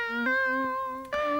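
Erica Synth VCO2 oscillator run through an MS-20-style MA35 filter, a basic synthesizer voice playing a few sustained buzzy tones with rich harmonics and short pitch steps, alone and fairly clear.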